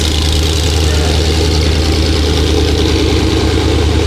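A Porsche 958 Cayenne Turbo with its secondary catalytic converters deleted, idling with a loud, steady low exhaust rumble throughout and no speech.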